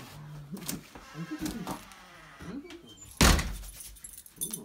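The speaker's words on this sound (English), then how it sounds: "Now open the door." A door clunks open with one sharp thud amid people talking and excited voices nearby.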